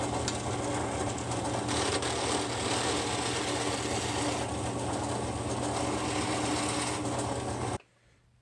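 A wood lathe spins a segmented wood-and-metal pen blank on a slow setting, giving a steady, loud mechanical whir with a low hum throughout that cuts off abruptly near the end.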